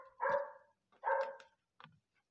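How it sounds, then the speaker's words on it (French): A dog barks close by, two full barks followed by a short softer yip, each separated by brief silence, with no talking. "Il y a mon chien qui vous engueule et qui vous dit la même chose"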